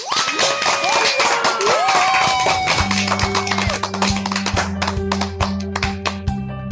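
Studio audience applauding at the opening of a talk show segment, a scattered burst of claps under a swell of music, with tapping and a speaking voice coming through near the end.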